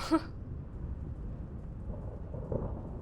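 A low, rumbling roll of thunder in the video game Emergency, with steady rain hiss underneath, fairly faint and continuous, after a brief sharper sound at the start.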